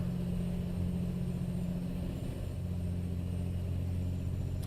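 A Kenworth K100 E truck drives in American Truck Simulator, its engine holding a steady low drone with a constant hum, with no talk over it.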